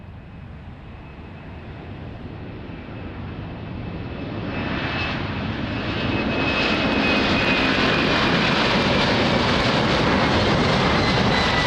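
A Ryanair jet airliner approaching runway 20 at Lisbon Airport in light wind: a broad engine roar that steadily grows louder and fuller as the plane nears, sustained without voices.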